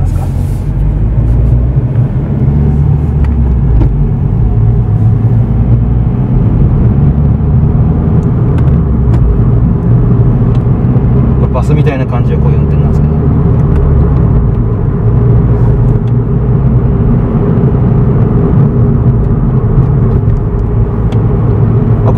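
A Suzuki Swift Sport with a six-speed manual gearbox being driven gently, heard from inside as a loud, steady engine and road rumble throughout, with a brief whir partway through and no talking.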